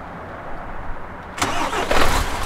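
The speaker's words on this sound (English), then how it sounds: "We'll get our truck started." A heavy MAN truck's diesel engine cranks and fires up in Euro Truck Simulator 2, turning over after a quiet lead-in and settling into a loud, close rumble that swells toward the end.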